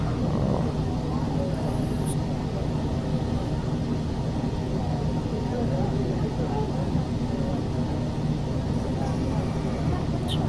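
Cessna Longitude business jet in Microsoft Flight Simulator, a steady loud engine drone with broad rumbling noise that holds evenly throughout.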